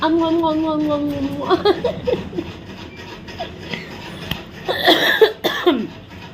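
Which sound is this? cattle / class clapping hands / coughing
coughing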